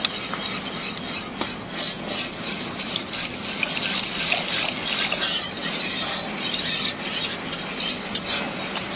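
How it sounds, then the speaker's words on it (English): A wire whisk stirs flour into a velouté sauce in a pot, working out lumps with continuous, brisk scraping and swishing strokes heard up close and alone. "Now you want to try to get these lumps out now as quickly as you can, which is the purpose of the wire whisk."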